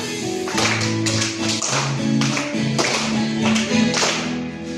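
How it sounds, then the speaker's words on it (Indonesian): Students clap their hands in a steady rhythm, the claps sounding close and sharp over group singing in a classroom. "Ayo tepuk tangan."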